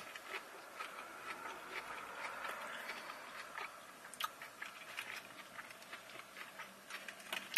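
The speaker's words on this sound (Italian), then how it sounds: "proviamo a dare un morso è gigante" Quiet, close chewing of a Burger King takeaway burger with onion, soft moist crunches and clicks repeating irregularly, with no talking.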